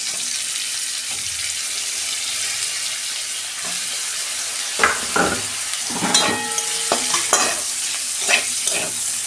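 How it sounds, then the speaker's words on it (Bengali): Cauliflower florets fry in hot oil after potatoes, a steady soft sizzle close up, broken by scraping and clinking as a utensil stirs the pan in the second half, with no voices. "এই তেলে আমি কপিগুলো ভেজে নিচ্ছি।"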